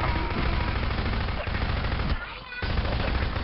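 Dense automatic gunfire rattles continuously at high volume, a loud sustained barrage with only a brief dip before it resumes.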